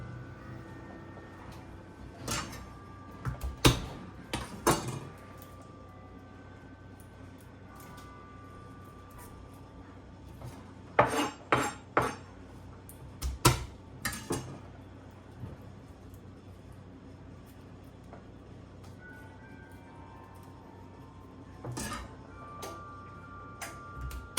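Garlic being chopped with a knife on a board, sharp clustered taps in short bursts separated by quiet pauses, close and crisp, with no talking.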